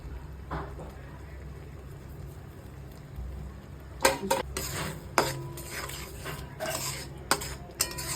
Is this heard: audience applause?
no